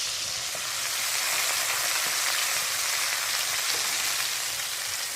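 Chopped tomatoes and green chillies sizzle steadily in a frying pan, a dense, even crackle of frying at close range that holds from start to finish with no voices over it.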